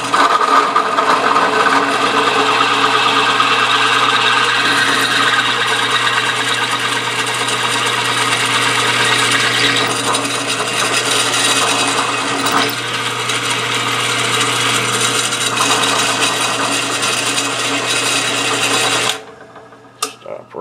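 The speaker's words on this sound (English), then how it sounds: "I'm gonna put that little pocket in the back of this" A small lathe or machine cuts a little pocket into the back of a homemade piston for a hand engraving tool, a steady close whirring and cutting hum that runs for about nineteen seconds before stopping.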